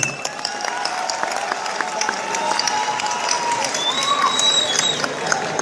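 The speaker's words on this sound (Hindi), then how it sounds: "एक बार फिर तालियों के बीच" An audience at an RCM business gathering claps steadily, a continuous crackle of many hands held at a moderate level, with some crowd voices underneath.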